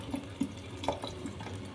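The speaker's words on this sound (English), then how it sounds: "What do you think that jumping on jets of water sounds like?" Jumping onto jets of water in a low-budget platformer video game produces a few soft, quick watery gurgles and splashy pops, faint and spaced out over a low background hum.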